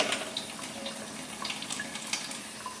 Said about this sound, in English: Rinse, squeeze it out.